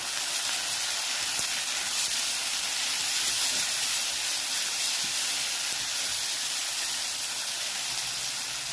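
Two small chopped tomatoes go into a pan of frying onions and sizzle with a loud, steady hiss, continuous for several seconds.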